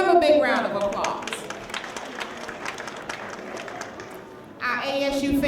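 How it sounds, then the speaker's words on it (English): Audience applause at a children's early learning center holiday program, a scattered mix of claps and crowd noise with voices talking over it, fading midway and swelling again near the end. "let's give them a big round of applause"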